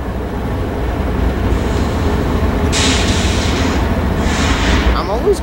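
Santa Fe (ATSF) locomotive hauling a passing train at Fullerton, a steady loud rumble of rolling wheels and engine with bursts of brighter rail noise, and a brief voice near the end.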